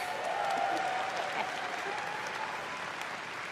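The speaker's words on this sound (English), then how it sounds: "That was like a pity All right. applause." An audience applauds at a BlizzCon 2023 event, a dense wash of clapping from a large crowd at steady volume that tapers slightly toward the end.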